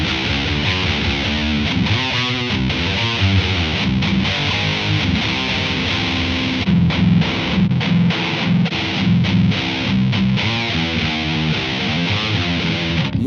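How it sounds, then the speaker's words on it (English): Electric guitar played through heavy fuzz distortion, thick buzzing chords and low notes with a loose, saturated tone, loud and continuous without voices. "this sounds way more fuzzy and loose in the low end"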